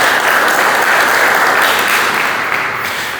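A church congregation applauds loudly and steadily during a Portuguese-language sermon, with dense continuous clapping that fades slightly toward the end.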